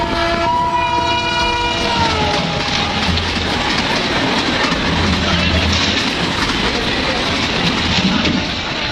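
Train pulling into Buxar railway station, a loud horn blast up front followed by rumbling wheels and rhythmic clatter of cars passing close by, steady and heavy throughout.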